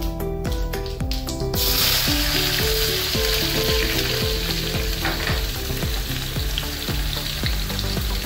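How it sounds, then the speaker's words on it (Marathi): Onion fries in hot oil in a wok, a loud, close, continuous sizzle that swells after a brief start, with faint stirring scrapes and no one speaking. "कांदा टाकून घे"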